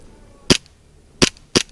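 Airsoft sidearm pistol fired during an outdoor skirmish game: three crisp, close snaps, one alone and then a quicker pair, over quiet background.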